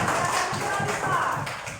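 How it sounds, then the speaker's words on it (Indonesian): Schoolchildren in a classroom clap together in a quick, steady rhythmic pattern to reward a student, the claps dense and close throughout with faint voices underneath. "tepuk tangan untuk Alison"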